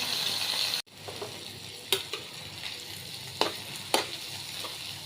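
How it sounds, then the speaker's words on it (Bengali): Hilsa fish gills, onion, garlic and green chilies fry in oil for a mash, a soft continuous sizzle broken by a few sharp stirring clatters, with no talk. "তো এটা দিয়ে আমি সুন্দর করে ভাজা ভাজা করে নেব ভর্তা বানানোর জন্য।"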